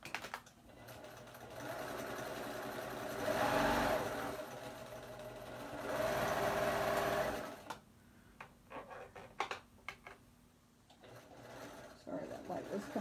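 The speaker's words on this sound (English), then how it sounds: "I'm just going to stitch right on that fold" A serger sewing machine stitching a short seam along a quilt fold, two close whirring runs of a few seconds each separated by a brief pause, followed by quieter handling clatter and faint talk.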